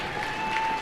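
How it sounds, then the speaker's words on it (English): Brief burst of crowd applause at a high school basketball event honoring students and their parents, a steady wash of many hands clapping in a reverberant gym, with a thin electronic tone running underneath. "How about one more round of applause for all of these individuals and their parents?"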